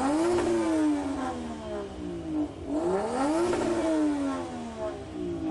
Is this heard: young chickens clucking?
no